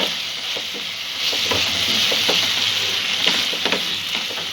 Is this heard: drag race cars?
no